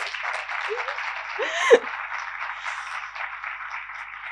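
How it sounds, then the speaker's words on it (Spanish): Audience applause at a public conference on children's right to family life, a steady, even wash of clapping that fills the whole stretch at moderate loudness, with a brief voice near the middle. "Le damos un aplauso"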